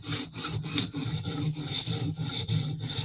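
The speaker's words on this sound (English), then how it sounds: "polishing the bevel and reducing the size of the burr" A knife bevel is honed on a clamped sharpener to polish the edge and shrink the burr, giving rhythmic raspy strokes close up, about a dozen back-and-forth rubs in steady succession.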